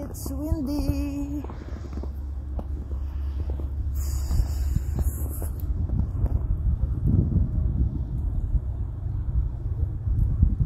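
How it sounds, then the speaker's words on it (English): Wind blows across an outdoor snowy setting among trees, a steady low rumble and buffeting against the microphone throughout, with brief voice sounds near the start. "It's windy."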